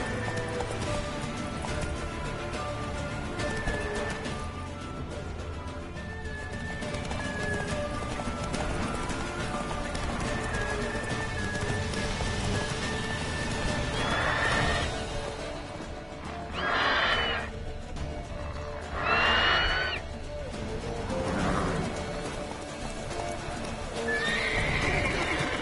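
A horse gallops with steady clip-clop hoofbeats under a busy mix of sounds, whinnying loudly several times in the second half, close and prominent.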